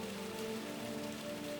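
Roar of a large multi-tiered waterfall in Vietnam, a dense steady rushing hiss with an even texture and no pauses, heard alone without voices.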